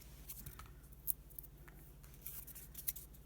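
Scissors snip the excess edges off a homemade foam craft stamp with a sticky backing, quiet close crisp cuts repeating softly over a low background hum.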